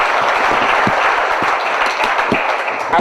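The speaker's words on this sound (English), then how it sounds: "that deserves a round of applause" Steady, loud applause fills a gala hall at a Guyanese cultural association's tenth-anniversary celebration honouring women, dense clapping from a large crowd throughout with no pause.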